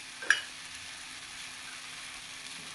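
Oil sizzles steadily in a hot pan under a ragi dosa, a soft continuous crackle with one brief louder tick near the start.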